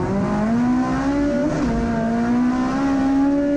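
K24-swapped Honda CRX racing down a drag strip, its engine holding a loud, rising rev tone throughout with a brief gear-change dip in the middle, heard close and alone.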